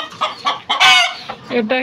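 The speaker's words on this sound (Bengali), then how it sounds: "এটা দেখেন একটা পাহাড়ি মোরগ" A hill rooster clucks and calls in several short bursts, close and fairly loud, with a louder squawk in the middle.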